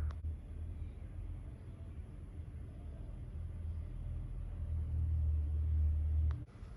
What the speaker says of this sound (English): even in this part of Singapore in the middle of the night, still have that kind of car noise